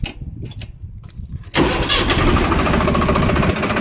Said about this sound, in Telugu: బండి స్టార్ట్ చేద్దాము.